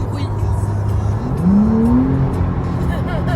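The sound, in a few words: Porsche engine revving with louder exhaust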